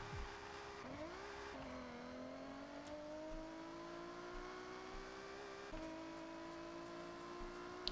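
Racing car engine in Forza Horizon 6, using the Toyota 2JZ engine sound, drones steadily and revs up through the gears with rising tones and brief shift dips, fairly faint, no talk.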